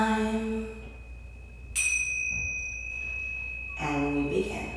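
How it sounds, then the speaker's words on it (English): A single bright chime rings out in a toddler yoga class, struck once with a sharp attack and a clear tone sustaining for about two seconds, with voices before and after it. "Ring the chime."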